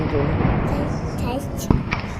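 Fireworks burst overhead at the Chithirai Vennkudai festival, sharp cracks popping across a brief stretch while people talk nearby.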